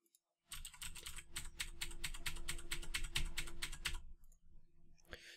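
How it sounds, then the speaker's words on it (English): Loud, rapid typing on a computer keyboard, keys clattering in a dense steady burst for several seconds close to the microphone before stopping. "right there, I typed pretty loudly"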